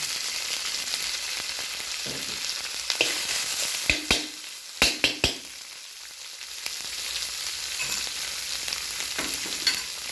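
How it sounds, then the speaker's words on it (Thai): Curry paste frying in boiling rice bran oil for a stir-fry of bamboo shoots, a steady close sizzle with a few sharp clinks and scrapes of a utensil stirring the pan. "เราก็จะใส่พริกแกงเข้าไปค่ะ"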